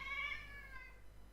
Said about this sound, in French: Le chat râle parce qu'elle n'arrive pas à traverser la table.